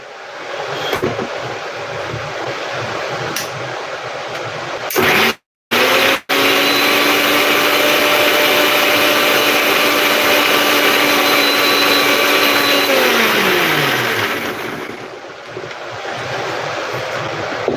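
A mixer grinder whirs loudly while grinding garlic, a steady high motor drone broken by a brief stop and restart, then winding down with falling pitch near the end.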